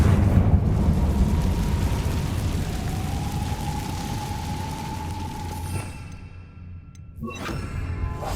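A Confringo blast spell in Hogwarts Legacy roars as a loud, sustained rumbling burst with a whooshing sweep, fading toward the end before a sharp crackling hit.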